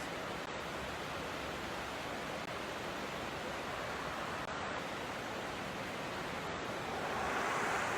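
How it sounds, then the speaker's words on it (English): Whitewater river rapids rush in a steady, even wash of water noise, moderately distant and unbroken, with no voices over it. "this is a nice little whitewater spot right here"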